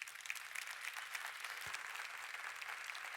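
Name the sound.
congregation applause in church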